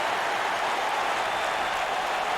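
Wrestling event crowd cheering with a steady, dense roar of applause and voices filling the hall, loud and continuous throughout.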